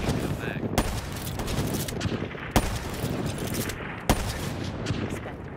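Video game gunfire: a steady rattle of rapid shots, broken by three sharp, louder cracks spaced a couple of seconds apart, with a faint voice in the background.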